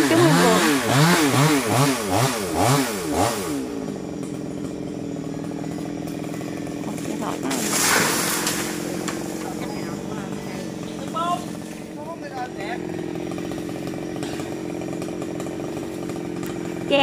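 A chainsaw revs and whines steadily, its pitch rising and falling as it bites into a tree, loud and close with some voices faintly underneath.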